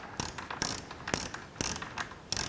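Torque wrench clicking while tightening bolts on a cylinder head guard of a 2018 BMW R1200GS Adventure, five sharp ratcheting bursts at a steady rhythm, close and fairly quiet, no talk.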